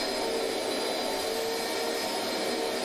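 A rug-cleaning machine dries a freshly washed rug with a constant, loud, airy whoosh, much like a vacuum blower, and no voices.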